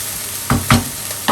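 Onions sizzle and brown in a pan with a soft steady frying hiss, broken by three quick scraping stirs close by.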